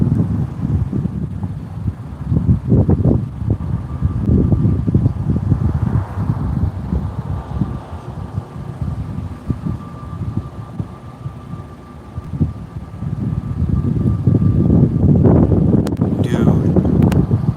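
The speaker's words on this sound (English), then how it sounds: "That wind is picking up." Strong wind during a storm chase roars and buffets the microphone in loud low rumbling gusts that swell and ease, with people talking intermittently underneath.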